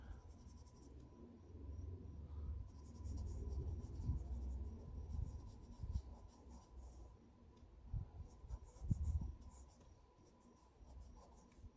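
Pencil scratching and rubbing across paper while shading and blocking in shadows on a drawing, a soft close continuous scrape with short bursts of stroking, heard alone without talk.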